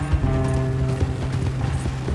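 Horse hooves clip-clop steadily while pulling a wagon in Red Dead Redemption 2, close and continuous over a low rumble of wheels and creaking mechanisms, with no talking.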